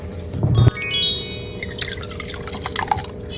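Water splashes briefly from a container onto a cleaning rag, a short wet burst followed by faint dripping and trickling close by.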